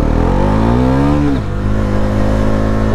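Bajaj Pulsar NS400Z 373cc motorcycle pulling hard under acceleration, engine pitch climbing steadily then dropping at a quick gear shift before pulling again, loud and close with no voices.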